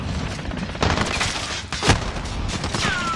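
Gunfire in the video game Call of Duty Modern Warfare, with repeated shots and bursts that crack out over a busy, continuous game soundscape, including one louder burst near the middle.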